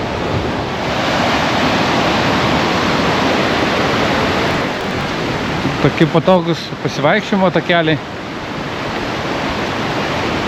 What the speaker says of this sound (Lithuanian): Upė labai garsiai šniokščia,